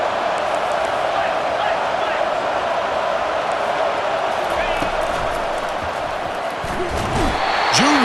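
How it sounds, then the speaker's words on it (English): A fired-up home crowd roars continuously in the EA Sports College Football video game during a Big 10 conference matchup, a dense, loud wash of stadium noise with scattered thumps and brief swells near the end. "this home crowd is fired up and ready to make a difference"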